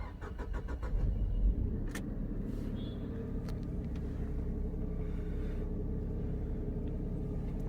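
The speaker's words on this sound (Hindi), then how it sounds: "अभी जैसे मैंने कार स्टार्ट की" A car engine starts with a brief cranking burst, then settles into a low, steady idle rumble close by, with a couple of small clicks along the way and no voices.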